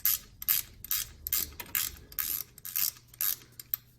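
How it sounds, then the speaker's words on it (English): A ratcheting wrench loosening a long dipstick tube bolt on a vehicle, rapid bursts of close, sharp ratchet clicks repeating in a steady back-and-forth rhythm, about eight strokes. "We got a ratcheting wrench."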